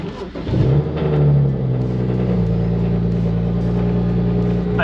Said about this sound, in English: Go ahead and kill the car and turn it on.